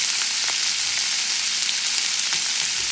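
Shrimp frying in a pan for gourmet shrimp sandwiches, giving a steady, loud, close sizzle with faint crackles throughout.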